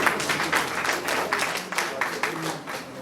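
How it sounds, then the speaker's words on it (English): An audience at a school alumni association general meeting claps in a dense, steady round of applause that runs throughout, with a voice faintly under it. "They get a round of applause for 1986."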